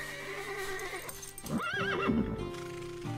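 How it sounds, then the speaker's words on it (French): A horse in a stable box gives a wavering, high neigh that rises and falls mid-clip, close and clear over an animated soundtrack with faint hoof sounds. "quand un cheval se met à hennir"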